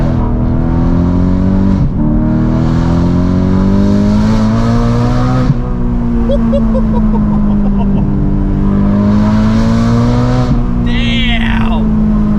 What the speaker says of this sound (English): let's actually really go ahead and test out that new exhaust